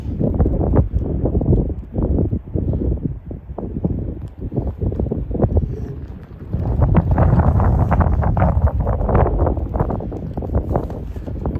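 Strong wind sweeps a foggy, snowy mountain pass at Col du Marchairuz in the Jura, Switzerland, roaring loudly across the microphone in continuous gusts and buffeting throughout.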